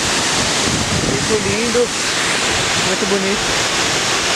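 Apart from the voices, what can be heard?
waterfall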